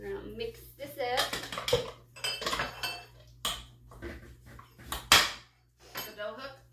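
Tortilla dough of flour, baking powder and salt is mixed in a bowl, making irregular clanks and scraping knocks of utensil against the bowl, loud bursts separated by brief pauses.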